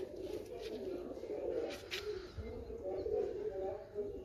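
Pigeons coo softly and repeatedly in low, throaty rolls, close by, with faint chirps and background noise.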